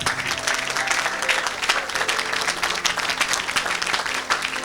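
A church congregation at an evangelist's meeting bursts into sustained, dense applause, loud and steady throughout with scattered cheering mixed in.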